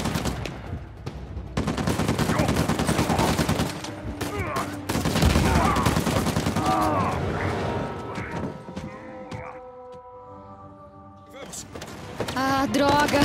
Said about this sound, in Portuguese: Muito tiroteio.